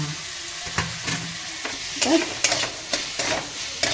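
Onion, garlic and tomato frying in a pan, a constant sizzle broken by repeated scraping strokes of a spatula stirring at an irregular pace.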